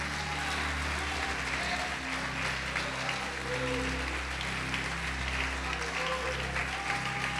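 Congregation applauding in a church during a sermon, a steady, moderately loud spread of clapping from the room, heard over a low, constant hum in the background.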